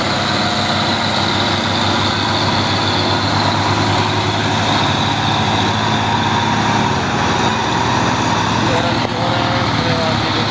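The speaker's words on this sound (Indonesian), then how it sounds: "Seperti aktivitas truk yang sedang menanjak." Loaded truck trailers grind uphill on the Bukit Kodok climb with a dense, continuous diesel engine roar that holds steady and loud throughout, with voices talking beneath the drone.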